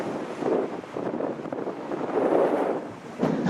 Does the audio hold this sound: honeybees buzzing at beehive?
no